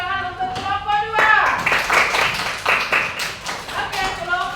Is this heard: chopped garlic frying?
no